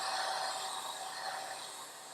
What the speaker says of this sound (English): Get out your hair dryer.